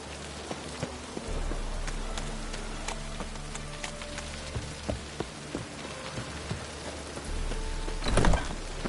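Rain in The Witcher 3: Wild Hunt, a steady soft patter of drops striking surfaces with scattered sharper droplet ticks and a brief louder rushing gust near the end.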